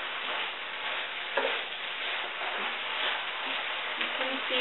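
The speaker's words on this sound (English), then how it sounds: "you're just going to stir this around until it is wilted and all mixed together" Wilting spinach for a tofu scramble is stirred around a hot pan, giving a steady soft sizzle with occasional scraping clinks of the utensil, fairly quiet and continuous.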